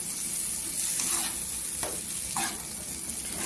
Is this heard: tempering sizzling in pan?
yes